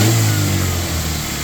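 A project car's engine revving up close and loud, a strong mid-pitched roar that eases slightly as it settles.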